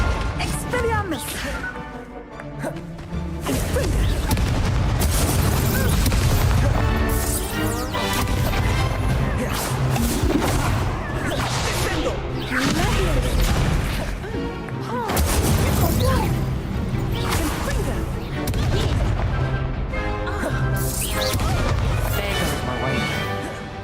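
Expelliarmus and other spell effects in Hogwarts Legacy crack and smash in rapid succession, loud impacts and bursts layered over continuous combat sound, with a voice calling out spell names.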